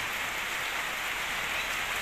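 Heavy rain pours down on a farm during record 2020 rains in Cyprus, a constant close hiss of drops hitting surfaces with no pauses and no talking.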